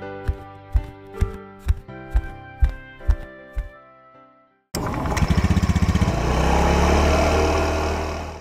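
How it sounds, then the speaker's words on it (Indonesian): A Honda Vario motorcycle engine starts abruptly and settles into a steady, loud, close idle with a dense buzzing rumble, following a run of sharp rhythmic knocks, with no talking. "Ada kok motor saya yang Vario di belakang"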